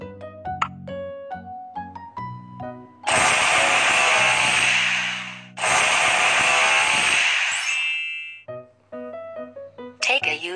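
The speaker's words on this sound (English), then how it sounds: "Make a small hole in the bottle cap with drill machine." An electric drill whirs loudly in two sustained bursts of a few seconds each as it bores a small hole through a plastic bottle cap for a school science experiment, with short clicks and handling noises before and after.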